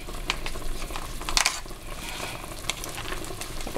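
Uncooked rice being stirred into a paella pot, giving a soft continuous sizzle with scraping, gritty stirring and a brief clink near the middle.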